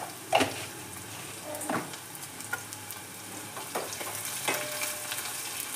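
Food sizzles steadily as it fries in a pan, with occasional scraping stirs and spoon knocks rising above the constant crackle, heard close up with no speech.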